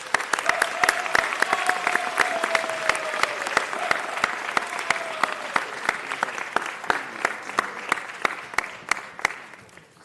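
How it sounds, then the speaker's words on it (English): A Los Angeles city council meeting audience applauds a woman named Gina. Dense, lively clapping runs continuously for about ten seconds, with sharp individual claps standing out and gradually thinning toward the end. "Let's give her a round of applause."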